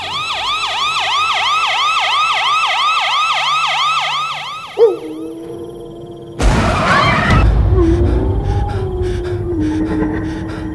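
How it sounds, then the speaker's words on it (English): A police car siren wails, rising and falling rapidly for several seconds, then cuts off; after a pause, a burst of noise and a steadier siren tone follow. "he hears the siren sound of the police car"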